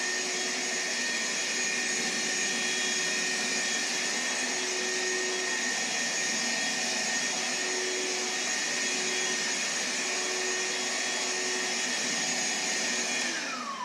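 A Ryobi R18HV handheld cordless vacuum runs continuously with a steady high whine and rushing airflow as it sucks up workshop sawdust and shavings, close and loud, winding down at the very end.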